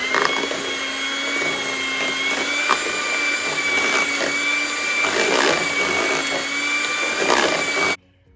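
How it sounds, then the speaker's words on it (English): An electric mixer whirs steadily through sweet potatoes, cream cheese, nutmeg and vanilla, a loud sustained motor whine with faint rhythmic sloshing, cutting off abruptly near the end. "And we're going to continue mixing until they're well blended"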